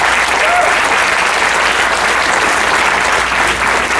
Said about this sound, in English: We're all standing and give them a nice round of applause, please.